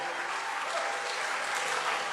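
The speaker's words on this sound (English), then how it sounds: "Let's clap for them." Audience applause at a teenagers' conference, a continuous even wash of clapping from a crowd, moderately distant and steady for the whole stretch.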